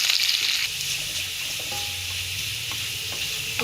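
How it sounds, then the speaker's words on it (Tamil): Garlic sizzles steadily in a hot pan, with occasional stirring scrapes and no talking. "இது கொஞ்சம் நல்லா வதங்க."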